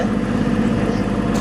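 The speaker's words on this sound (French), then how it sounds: "c'est le moteur qui nous accompagne possiblement pendant encore plusieurs heures." A sailboat's motor runs during a sea crossing from the Dominican Republic to Turks and Caicos, a loud, steady low drone with an even tonal hum and no talking.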